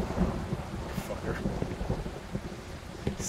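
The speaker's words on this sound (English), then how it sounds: "Stupid thunder!" Thunder rolls and rumbles continuously alongside steady rain in a horror video game, a low, moderately loud stormy wash with a few sharper cracks, with no talk over it.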